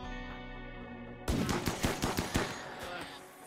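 Gunfire in the Rimworld colony game: after a low droning bed, a rapid burst of about eight sharp shots crackles out in quick succession, then fades, with no talking over it.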